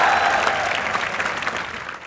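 Dense, steady applause from a crowd at a Diwali celebration held at a defence academy, filling the whole stretch at even loudness without talk.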